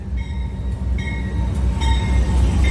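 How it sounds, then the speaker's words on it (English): An Amtrak passenger train rumbles loudly past close by, with heavy low roar and faint metallic wheel squeal throughout. "there's the Amtrak train"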